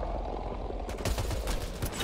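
Rapid automatic gunfire from the video game Mass Effect Andromeda starts partway in, a dense rattling string of shots over a loud, rumbling game background.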